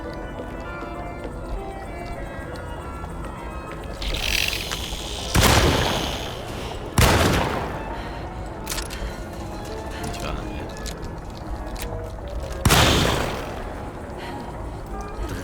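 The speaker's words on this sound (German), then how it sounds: "3 Schüsse." Three loud gunshots ring out in the horror video game Alone in the Dark, spaced a second or two apart over a murky ambient background, with someone talking now and then.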